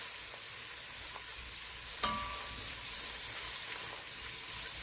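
Ingredients fry in a pan for lobster and shrimp pasta, giving a continuous bright sizzle with light stirring clinks and one sharper utensil knock partway through.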